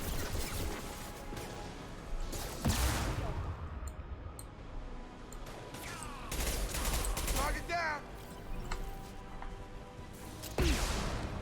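Machine pistol gunfire in Mass Effect 2, repeated rapid bursts of shots with impact crashes layered throughout, loud and continuous, with someone talking over it.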